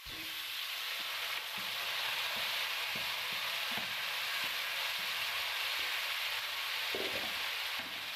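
Marinated chicken sizzles steadily in a hot pan for a Bengali-style chicken curry, a loud continuous frying hiss with occasional soft stirring clicks and no talking.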